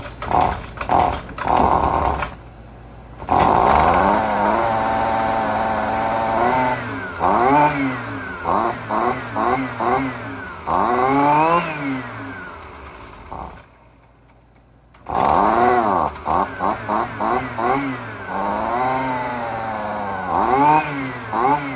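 A Husqvarna 128LD string trimmer with a carburetor needing adjustment sputters and revs in uneven bursts, the small two-stroke engine surging up and down with brief drops, then catching again and running loudly close by.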